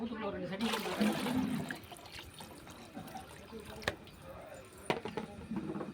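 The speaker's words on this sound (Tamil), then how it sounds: "இதால் நான் இன்னும் 1 கப்பு தண்ணி ஊற்றிக்கிறேன்." A second cup of water poured into a rice pot for neisoru, a close splash and trickle heard early on, followed by quieter drips and small clinks.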